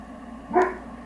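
A single short dog bark or yip, moderately close and heard alone against a quiet indoor room tone.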